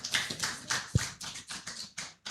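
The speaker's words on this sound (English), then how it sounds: "Please, a round of applause for him too" Scattered applause for a professor at a Lagos housing and capital forum, a few people clapping in an irregular, thin patter at close range, with a single heavy low thump partway through.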